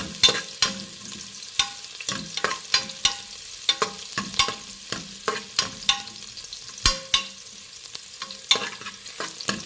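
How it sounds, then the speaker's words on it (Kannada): Finely chopped onions fry in hot oil for a Dhaba-style goat head and legs curry, a soft sizzle under frequent sharp clicks and scrapes of a spatula stirring against the pan, with no talking. "ಇದನ್ನು ಫ್ರೈ ಮಾಡಿ"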